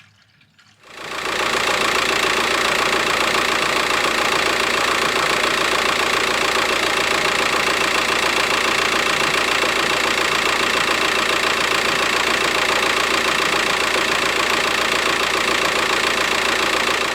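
A VW T5 Transporter van with the 1.9 TDI AXB diesel engine idles after a radiator change, a steady close, even diesel clatter that starts abruptly and runs unbroken.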